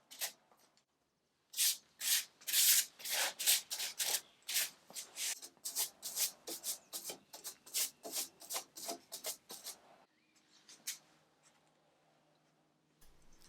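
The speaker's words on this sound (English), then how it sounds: "To attach the veneer, I'm using contact cement, and this one is in a liquid form, so you can apply it with a brush or a roller." A brush spreading liquid contact cement across a wooden vanity before veneering, close and crisp, a rapid run of rhythmic rasping strokes that thin out into lighter scrubs and quiet handling noise.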